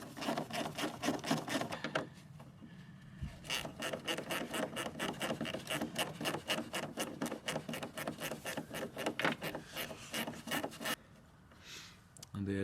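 A Hyundai i30 1.6 CRDI headlight unit being wiggled loose from the car, giving a steady run of close, rapid plastic rubbing and scraping clicks that stop briefly near the end.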